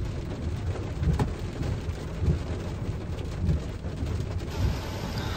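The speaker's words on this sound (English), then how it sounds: "Hiding in the car because the rain, we're dumb, didn't bring any umbrellas." Heavy rain drums steadily on a car from inside the vehicle, with low rolling rumbles of thunder swelling several times beneath the constant downpour.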